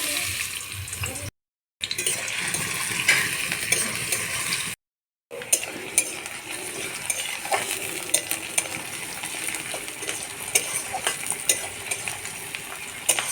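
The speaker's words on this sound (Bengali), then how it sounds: "পেঁয়াজগুলোকে লাল লাল করে একটু মুচমুচে করে ভেজে নেব" Onions frying in hot white oil in a wok for chicken biryani: a steady, close crackling sizzle with occasional stirring scrapes, broken by two short gaps of silence.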